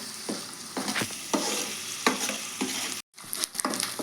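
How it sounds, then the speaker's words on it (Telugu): Masala sizzles and fries in a pan while being stirred for a spicy fish fry, with repeated scraping strokes, a steady crackle in between and a brief pause near the end. "ఇది కొద్ది పచ్చివాసన పోయేంత వరకు వేపుకుందామండి."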